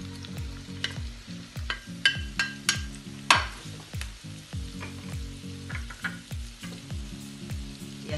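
Diced onion and cubed red and green peppers fry with chicken for a Chinese-style sweet and sour dish, a close hiss under a regular rhythm of spatula scrapes and clinks against the pan.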